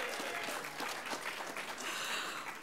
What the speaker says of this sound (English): You should clap for this.